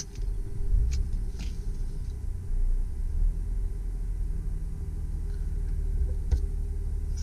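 A 2004 Lexus RX330 with 130,000 miles runs close by with a steady low engine rumble and hum, with a few faint ticks on top and no voices.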